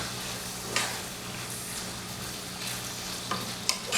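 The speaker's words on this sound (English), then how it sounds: "all in there after maybe like 2-3 minutes of it frying up." Soya pasta fries in a pan with dry herbs, basil, seasoning salt, black pepper and paprika, giving a soft continuous sizzle punctuated by a few sharp clicks of stirring utensils against the pan.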